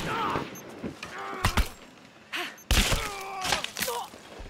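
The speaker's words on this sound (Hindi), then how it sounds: "इसने गोली चला दी यार" Sharp bursts of gunfire in Shadow of the Tomb Raider crack through a busy, noisy mix of game sounds, several shots scattered across the moment.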